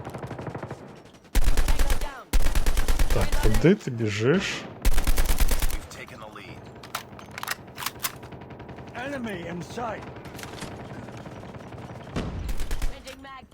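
ASM10 assault rifle bursts in the Call of Duty: Mobile video game, loud rapid automatic fire in several long volleys, with a voice talking between them.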